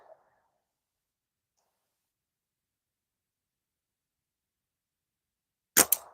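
An arrow strikes an AliExpress catch box, giving one sharp, loud impact near the end after a long silence, preceded only by a faint short sound at the start.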